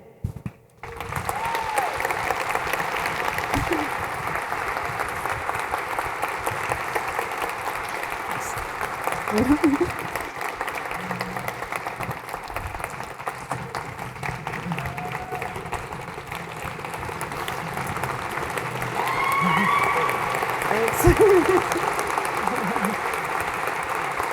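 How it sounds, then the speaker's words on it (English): Audience clapping at a Pink Tea and Pink Cocktail fundraiser, a steady sustained patter of applause across the room with voices mixed in, swelling slightly near the end. "You guys are just clapping"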